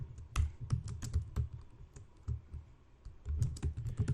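Computer keyboard typing out a Python print statement, a brisk run of close, sharp keystrokes with a short pause midway, fairly loud and with no talk.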